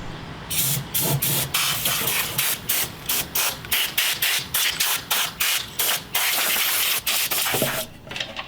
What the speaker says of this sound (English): let's blow out the plastic shavings